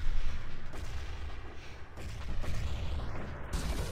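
Grenade explosions and gunfire in the video game Urban Terror, a dense, continuous barrage of loud booms and shots with little pause, rumbling heavily throughout.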